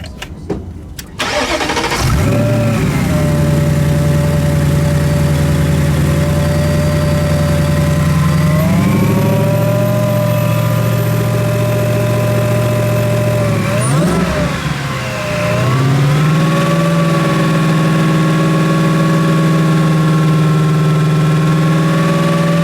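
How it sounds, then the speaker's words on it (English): A 2025 Shelby Mustang GT350R 5-liter V8 with a 6-speed cranks and fires, settling into a loud, steady idle, then is revved twice with deep rising swells, close and alone. "Vince, I think we should fire it up."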